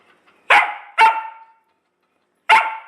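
Dog barking three times, two sharp barks close together and then one more after a pause, loud and near, with silence between and no voices.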